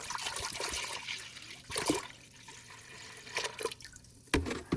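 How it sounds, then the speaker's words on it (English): A half-gallon jug of apple cider poured into a pot on a burner, with gurgling splashes and trickling liquid in uneven bursts, fairly close and moderately loud. "we are going to pour the entire half-gallon jug of apple cider in here"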